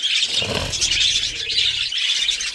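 Caged birds, including a young bird, chirp continuously in a dense, bright twittering chorus that is close and fairly loud, with faint low background rumble.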